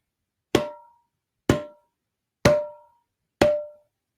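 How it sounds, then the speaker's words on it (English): Four evenly spaced hollow drum taps on a breadcrumb container, each short and resonant, played alone in a steady beat. "It is just a breadcrumb container that I can use as a drum"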